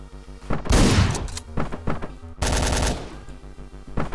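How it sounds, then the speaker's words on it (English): Shotgun blasts in the top-down action game Hotline Miami, loud booming shots in two heavy bursts with thuds and impacts between them, no talking. "Alright, we'll take the shotgun."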